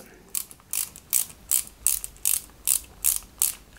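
A screwdriver ratchets in a regular clicking rhythm while two screws drive metal left rear suspension parts into a 1/8 scale Lotus Renault 97T model car, the clicks close and crisp with quiet between them.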